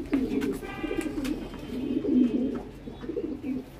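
Pigeons, a Chakar hen and her pair among racing birds, coo steadily in low rolling phrases at close range, with a few brief chirps above and no voices.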